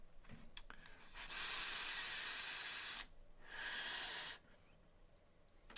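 Air is drawn through a Vandy Vape Kylin M AIO vape with its airflow wide open, firing at 65 watts on a 0.15 ohm coil, giving two long, soft, close hissing draws separated by a brief pause.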